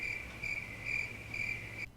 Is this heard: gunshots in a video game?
no